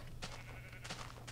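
Sheep bleat in a blocky Minecraft Beta 1.6.4 world, short faint wavering calls repeated a few times over a steady low background hum, no talking.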